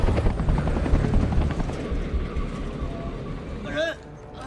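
A helicopter heard in an action film scene, its dense rotor and engine roar loud and continuous before easing, with a voice briefly rising over it near the end.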